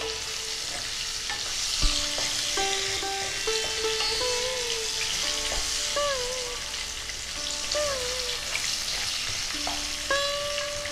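Salted potatoes coated in turmeric fry in oil, a steady even sizzle with occasional stirring knocks, while a melodic music track plays over it throughout.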